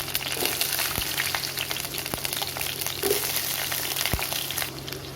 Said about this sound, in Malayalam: നമുക്കതിലേക്ക് ക്യൂബാക്കി വെച്ചിരിക്കുന്ന സവോള ഇട്ട് കൊടുക്കാം.